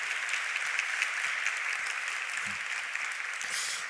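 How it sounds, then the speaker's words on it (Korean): A church youth service congregation applauds a visiting missionary couple from the Philippines, a dense, steady wash of many hands clapping at even loudness throughout. "우리 두 분 일어나시면 우리 사랑과 축복의 박수 하겠습니다."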